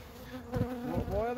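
Killer honey bees swarming during a hive removal from a house, a faint close buzzing drone with wingbeat tones rising and wavering as individual bees pass near.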